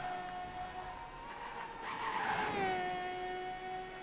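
Formula 1 car in a racing video game slips at Monaco, its high engine whine bending downward as the tires skid briefly, steady and mid-loud over a constant background.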